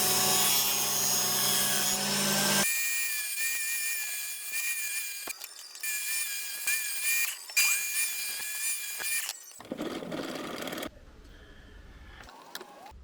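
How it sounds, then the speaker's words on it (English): A table saw tilted to 45 degrees cuts a new groove into an old sled, with a steady whining blade hum and scraping bursts of cutting in bright, close, loud passages that shift into rougher noise near the end. "Here I'm setting my table saw to 45 degrees and cutting a new groove in my old table saw sled"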